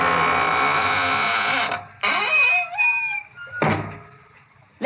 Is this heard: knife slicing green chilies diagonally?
no